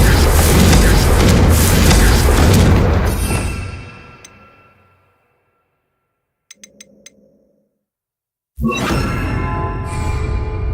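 Hogwarts Legacy Confringo fire spell: a loud, roaring blast that swells and then fades to near silence, a few small tinkling chimes, and then another abrupt burst of crackling impact.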